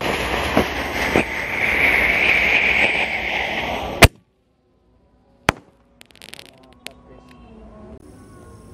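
Roman candle bazooka fireworks set off on the night of Eid al-Adha takbiran, a loud whooshing, hissing launch with a few sharp pops, ending in a sudden crack, then a lone distant bang and faint scattered crackles.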